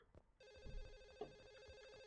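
A telephone rings in the horror game Reaping Sins, a bright electronic ring that starts abruptly after a short quiet moment and holds steadily, fairly faint, with a few soft thuds underneath.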